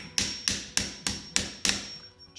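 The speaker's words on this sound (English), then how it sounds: "then I'm going to take a hammer" A hammer taps a saw blade into wood, guided along a speed square, while building a medium wooden American flag: six evenly spaced, sharp metallic strikes about a third of a second apart, close and loud, with no talking.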